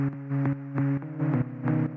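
Synthesizer preset from Analog Lab playing short rhythmic pulses of a sustained chord, repeated notes with sharp attacks in an uneven groove, moderately quiet and alone.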